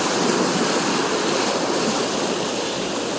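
Storm floodwater rushing through a channel and spreading out, a steady, loud broadband roar of churning water that holds constant throughout with no voices.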